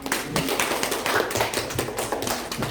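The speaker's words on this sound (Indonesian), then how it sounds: "Beri tepuk tangan" Audience clapping at a high school quiz competition in Jeneponto, a loud, close burst of many hands beating in quick, irregular rhythm that carries on steadily to the end.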